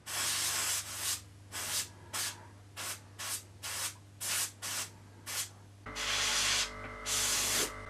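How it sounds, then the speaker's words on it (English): An airbrush sprays brown paint in a mottled pattern over a model, releasing a series of short hissing bursts in an irregular rhythm over a constant low compressor hum, then two longer bursts at the end, close and without speech. "I'm now going to vary it by changing colour and spraying another pattern with the brown."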